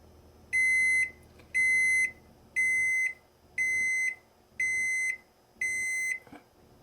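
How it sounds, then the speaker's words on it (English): A Samsung gas range oven signals it has preheated to 400 degrees with six evenly spaced electronic beeps, each about half a second long, loud and close over faint room hum. "the oven has just signaled that it's reached the 400 degree preset"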